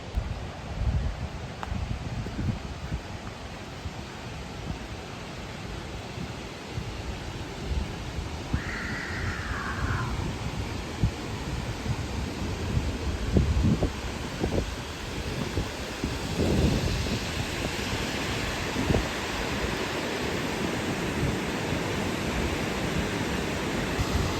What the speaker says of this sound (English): now I've come to another waterfall, which you may be able to hear in the background